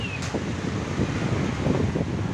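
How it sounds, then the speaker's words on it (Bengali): Strong storm wind during rain in Chittagong gusts in a steady broadband roar, buffeting the microphone with low rumbling pulses throughout, loud and close with no voices. "প্রচুর বাতাস"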